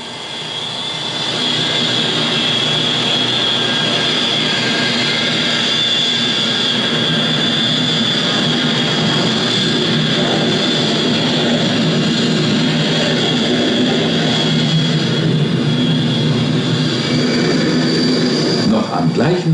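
A propeller or jet airplane engine drones steadily in flight, rising quickly at the start to a constant loud hum held for the rest, with a narrator speaking over it.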